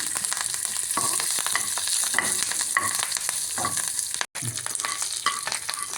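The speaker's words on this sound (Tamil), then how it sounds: "அடுப்பில் ஒரு பேன் வச்சு எண்ணெய் ஊற்றிருக்கிறேன் கடுகு உளுந்தம்பருப்பும் கொஞ்சம் சீரகமும் இதில் தாளிச்சிடலாம்" Steady crackling sizzle of mustard seeds, urad dal and cumin frying in hot oil, close and continuous, with a brief pause and occasional stirring scrapes.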